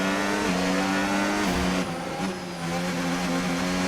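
Formula 1 race cars in the F1 25 video game roar past in an overtake, a loud sustained high-pitched engine whine with gear-shift steps in pitch and a brief dip as the cars pass, no talking.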